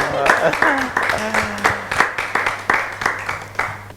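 An audience applauds in a hall, with rhythmic clapping pulsing steadily under a voice that talks over it.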